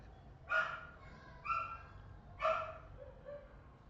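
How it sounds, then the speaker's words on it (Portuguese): A dog barks three times at a moderate distance, spaced about a second apart, over a quiet indoor background with no talk. "E me perdoe o meu cão, fica latindo."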